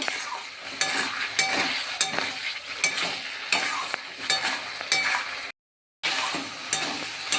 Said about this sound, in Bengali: দিয়ে আমি ভালো করে মশলার সাথে আলু কষিয়ে নেব।